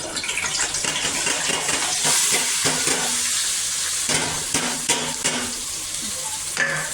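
Curry leaves and masala hit hot oil in a home kitchen while cooking a crab dish, a steady loud sizzle with crackling pops and occasional stirring scrapes, no voices.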